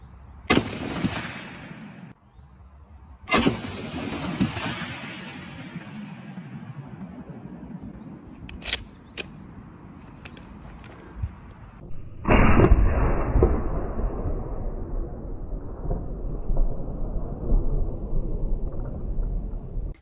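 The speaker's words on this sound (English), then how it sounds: "Your Grandpappy's standard 12-gauge pump action, or a breech load." A Mossberg 500 12-gauge pump action shotgun fires several loud, booming shots, each with a long decaying echo, spaced a few seconds apart, then a sustained rumbling roar in the latter half.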